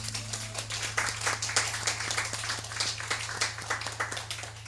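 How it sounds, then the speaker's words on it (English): A church congregation at a regional Sunday service applauds the band, a dense, steady patter of many hands clapping at moderate distance, continuing evenly throughout under a low background hum. "Please let us give a big round of applause to the band."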